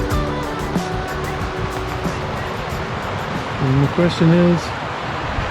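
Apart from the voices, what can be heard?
river flowing, South Fork of the Kings River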